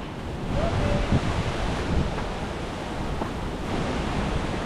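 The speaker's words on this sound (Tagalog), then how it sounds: "Grabe, biglang lumakas yung hangin." Strong wind roars steadily, blasting across the microphone in a dense, continuous rush with slight surges.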